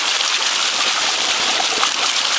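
Water gushes steadily from a ram pump, flushing silt and debris out in a continuous close rushing wash, fairly loud, with no voices.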